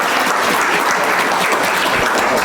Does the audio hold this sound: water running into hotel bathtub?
no